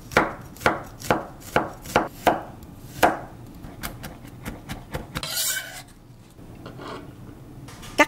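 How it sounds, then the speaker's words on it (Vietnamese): A knife minces garlic cloves on a cutting board, with a quick, even run of close, crisp strikes at first. Lighter, scattered taps follow, then a brief scrape and one last knock. "Rồi mình băm nhỏ thêm 2 tiếp tỏi nữa nha các bạn."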